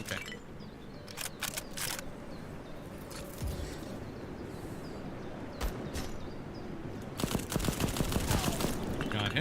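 Gunfire in the video game Black Skylands, including sniper rifle shots: scattered sharp bursts and single cracks in a few clusters over a constant game ambience.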